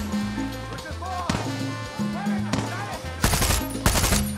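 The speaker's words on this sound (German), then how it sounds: "Nicht auf mich schießen!" Rapid gunfire from the Far Cry 6 video game, loud bursts of automatic shots and heavier blasts layered over game music, with a sharp volley near the end.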